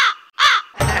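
A crow gives two sharp, close caws with a short gap between them, followed by a sudden burst of broadband noise, in a Telugu comedy skit about a crow telling fortunes.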